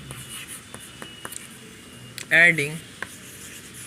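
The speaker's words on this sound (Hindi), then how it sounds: "तो हम लिखेंगे यहाँ पे" A marker or chalk writing an equation on a board in a class on linear equations, soft scratchy strokes with a louder squeaky stroke midway, under a teacher's speech.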